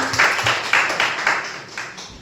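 A church congregation claps to welcome visitors during a service, with a brief burst of scattered, uneven hand claps that fades within a couple of seconds.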